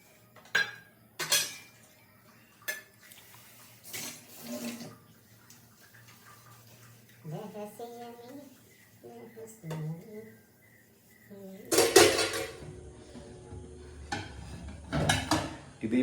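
Pots, pans and utensils clink and clatter in a home kitchen while tea is being made, coming in scattered bursts with quiet gaps, a few louder knocks toward the end, and a person speaking intermittently in between.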